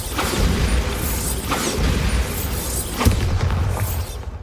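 A Bombarda blasting spell in Hogwarts Legacy, a loud, continuous booming explosion with rumbling crashes and whooshes that fill the scene.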